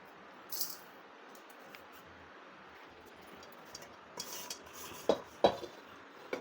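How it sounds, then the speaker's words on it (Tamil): A ground pepper mixture is shifted into a bowl with dish and utensil clatter, mostly quiet scraping that builds to a few sharp clinks and knocks near the end. "இப்போ இந்த கிண்ணத்துக்கு இதை மாற்றிக்கலாம்"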